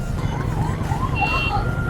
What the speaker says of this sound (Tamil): ஸோ எப்பயுமே ஆம்புலன்ஸ் வந்தால் கொஞ்சம் வழி விட்டு போங்க.